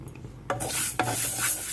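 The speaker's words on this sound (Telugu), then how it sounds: "ఇప్పుడు మనం మెంతులు అండి చిన్న గ్లాసు మెంతులు వేయించుకుందాం దోరగా మంచి వాసన వచ్చే వరకుని" Fenugreek seeds dry-roasting in a pan while being stirred, two quick scraping sweeps over a light rattling sizzle, close by.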